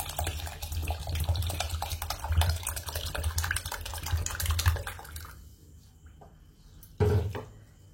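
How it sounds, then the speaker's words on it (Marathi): Rice and urad dal are being rinsed and rubbed in water, giving busy sloshing and splashing up close for several seconds, then a brief quiet before one more short splash. "आता आपण याला स्वच्छ धुवून घेऊ।"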